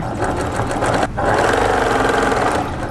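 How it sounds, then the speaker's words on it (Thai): A sewing machine stitches the seam of a twisted-style shirt, running loud and steady at close range with a brief pause about a second in before the whirring resumes. "ค่อยเย็บไปเรื่อยๆ แล้วค่ะ"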